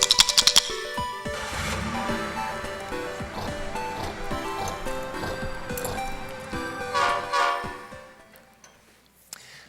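BNSF Railroad train passing with a rumbling, clattering roll and horn blasts near the start and again later, loud then fading into quiet at the end.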